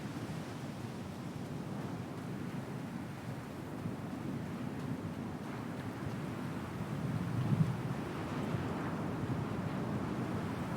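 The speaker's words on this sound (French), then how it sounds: "il y a le vent qui se lève en plus." Wind blows across the open ground outside a bunker on Hurston in Star Citizen, a steady broadband rushing roar that swells slightly partway through, with no talk.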